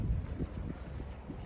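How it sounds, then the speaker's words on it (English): Wind buffets the microphone on an empty city street in Italy, a brief low rumbling gust with nothing else audible. "It's a bit windy."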